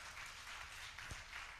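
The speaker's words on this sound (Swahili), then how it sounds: "Makofi kwake." Applause from the audience at an annual women's conference, a steady broadband patter of many hands held throughout at moderate, slightly distant level with no talk over it.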